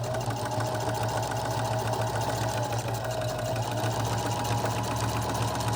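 A Singer M3220 sewing machine stitches fabric with a steady, close mechanical whir of the rapidly pumping needle, running without pause and with no talking.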